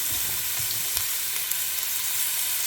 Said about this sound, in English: And I'm going to put in a whole chopped onion